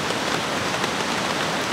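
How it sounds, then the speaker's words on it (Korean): A mountain valley stream swollen by rain, rushing in a dense, steady hiss near at hand with no voices. "옆에 계곡 물소리가 더 세차게 들려요."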